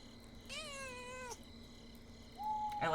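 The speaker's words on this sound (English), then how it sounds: "I like the little cat noise it makes." A baby creature in the video game Pentiment lets out a short, bright, rising cat-like meow, followed after a pause by a second, higher, drawn-out mew and a quick chirp at the end, over a quiet background hum.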